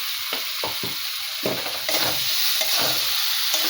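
Tengra fish coated with chilli, cumin, salt and turmeric being stir-fried in a pan, close hissing sizzle with a run of quick spatula scrapes and knocks, then a louder steady frying hiss.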